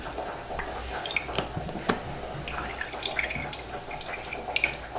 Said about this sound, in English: Usually if you leave it for longer, it'll keep dripping.